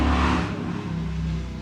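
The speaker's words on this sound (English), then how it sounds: "Sorry for the motorcycle." A motorcycle passes by outside, a loud engine whoosh that peaks at the start and then fades into a steady distant drone.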